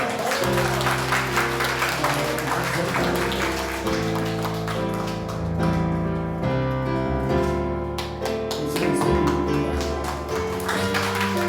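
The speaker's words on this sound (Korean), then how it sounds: "우리 다 함께 축하와 기도의 박수를 받아봅니다" A church congregation claps together in celebration and prayer, a steady wash of applause mixed with sustained instrumental music underneath.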